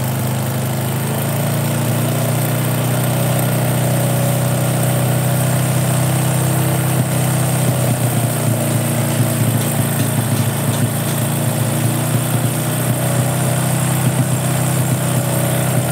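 A hot Honda Supra 125 motorcycle engine runs close and loud in a steady, buzzing idle with only slight variation in pitch and no pauses.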